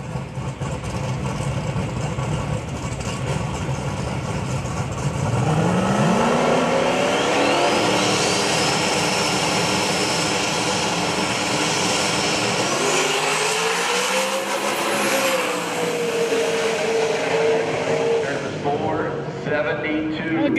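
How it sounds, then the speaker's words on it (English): Drag racing cars in a Super Street class launching and accelerating down the strip at Maryland International Raceway, loud engine roar rising in pitch and sweeping past over about twenty seconds, with crowd noise and talk underneath. "Oh, good drag race."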